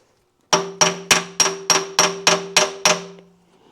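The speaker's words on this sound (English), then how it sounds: "Grab my brass hammer, because I'm going to have to give it some light taps to get it through." Eight evenly spaced, ringing metallic taps from a brass hammer driving a part into the differential of a 1927 John Deere D tractor, each strike sharp and close with a short bright ring, alone without talk.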